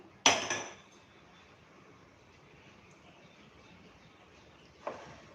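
A metal wok set down on a kitchen stove makes a sharp clattering clank, followed by a brief rattle, then near quiet and a second softer metallic knock near the end, heard alone without speech.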